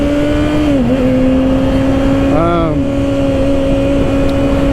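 A 2024 Kawasaki ZX-6R motorcycle ridden with its quick shifter engaged gives a loud, steady engine drone close by, with brief pitch dips at quick gear changes.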